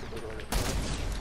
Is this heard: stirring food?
no